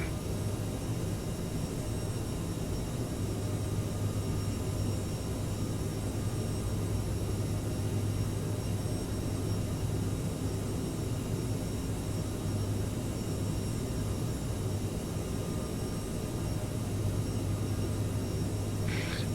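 Inside the cabin of a CRJ900 jet airliner climbing just after takeoff, a constant broadband roar with a low engine drone hums steadily throughout, no voices.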